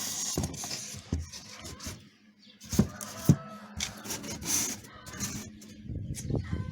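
The lid of an egg incubator being closed: close scraping and rubbing, then two distinct knocks as the lid settles, followed by light handling noises.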